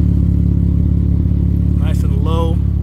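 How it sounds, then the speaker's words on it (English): Infiniti Q50 with a custom 3-inch catback exhaust idling close by, a deep steady low rumble throughout, with a voice talking briefly over it near the end. "Give you a little idle sound here"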